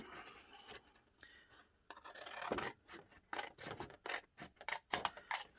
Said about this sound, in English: Cut around it.